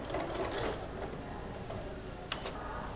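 A sewing machine stitches a polo collar seam, giving a soft continuous mechanical whir with faint ticking, fairly quiet and close, and a couple of brief sharp clicks near the end.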